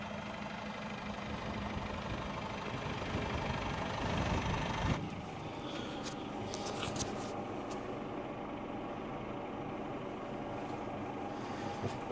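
A tractor engine idles in a steady, low, even rumble with a fertiliser spreader attached; midway a sharp clunk shifts the tone, and the motor keeps running with faint rattles above it.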